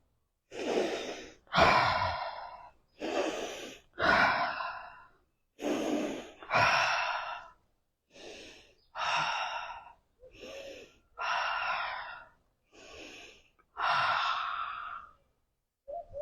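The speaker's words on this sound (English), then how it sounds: "Go ahead and breathe." Deep, slow breathing close to the mic during a head tension release, around a dozen long inhales and sighing exhales in a steady rhythm, with short silences between them.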